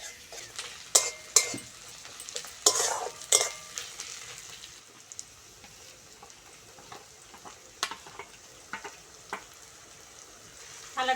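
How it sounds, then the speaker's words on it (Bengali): Spice masala frying with browned onions in a pan for a spicy eggplant dish, a steady close sizzle broken by sharp clacks and scrapes of a spoon stirring, louder bursts early, then a quieter fry. "এবার মশলাটা ভালো করে কষে নেব।"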